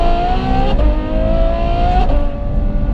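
Novitec N-Largo Ferrari F12 with a straight-through titanium exhaust, revving steadily and loudly up close, its pitch climbing and dipping through two gear-like steps with a sustained engine drone throughout.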